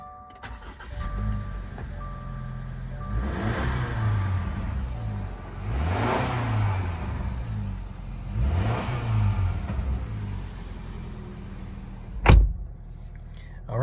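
A 2021 Subaru Crosstrek Sport engine revs in three rising swells over a steady idle, with a sharp exhaust crack near the end; no talking.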